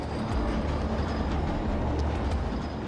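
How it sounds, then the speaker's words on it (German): Train rolling along rails, a dense continuous rumble with faint rhythmic clatter and occasional higher squeaks, steady and fairly loud throughout. "Gerade noch rechtzeitig kann Leo Lania, der Journalist, der sein Leben aufs Spiel setzt, mit dem Zug aus München fliehen."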